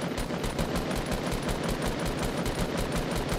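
Rapid automatic gunfire in a video game, a steady stream of bursts at a fast, even rhythm, loud and continuous with no voices over it.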